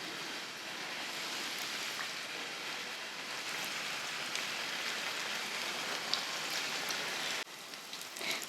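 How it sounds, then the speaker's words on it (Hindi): Mini samosas made from samosa patti sizzle steadily in a pan of hot oil, a dense, continuous crackling hiss that runs unbroken and fairly loud, dipping slightly near the end. "गरम गरम तेल में डालेंगे तो बहुत ही मज़ेदार और खस्ता समोसे तैयार होंगे।"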